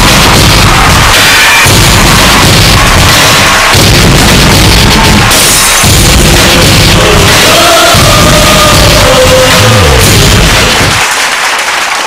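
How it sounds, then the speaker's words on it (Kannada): Loud, dense audience applause fills a hall at a Kannada television awards show, sustained clapping and crowd noise with bursts of louder swells throughout. "ನಿಮ್ಮ ಜೋರಾನ ಚಪ್ಪಾಳೆ ಮೂಲಕ"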